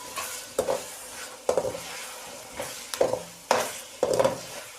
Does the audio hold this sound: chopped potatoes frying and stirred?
yes